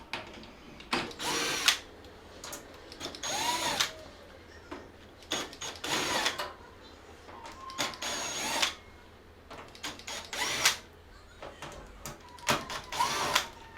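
A power drill backs Phillips screws out of the back edge of a Frigidaire microwave cabinet under repair, in repeated whirring bursts of a second or two separated by short pauses, loud and close.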